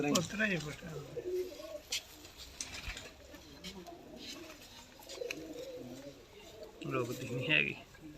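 Pigeon of a prized breeder's breed cooing in a loft, soft repeated coos mixed with other bird calls under ongoing conversation between men.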